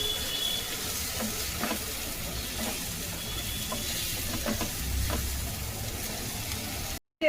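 Mutton fries in a pan with a little turmeric powder just added, giving a steady close sizzle with faint stirring scrapes throughout and a brief dropout near the end.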